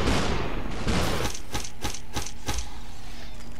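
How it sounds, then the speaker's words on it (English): Gunfire in the Superhot PC video game: a dense burst of shots, then several sharp evenly spaced reports, loud and close with no talking. "look, the bullets are flying"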